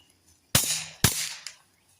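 Two suppressed shots, then a fainter third impact, from a Kel-Tec P17 .22 pistol with a Yankee Hill Phantom 22 suppressor firing Remington supers into dirt: sharp close cracks, each with a brief decaying tail.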